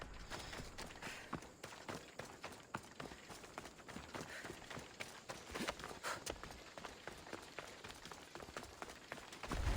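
A horse's hooves clip-clop in Assassin's Creed Odyssey, a quiet, steady run of rhythmic hoofbeats close by with no talk over them.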